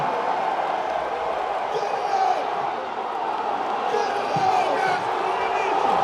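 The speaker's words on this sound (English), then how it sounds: "The crowd trying to help out Brian Shaw" A strongman competition crowd cheers and shouts encouragement for Brian Shaw's lift, a dense, moderately distant roar of voices that swells and dips, with a commentator talking over it.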